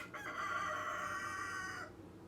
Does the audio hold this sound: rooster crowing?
yes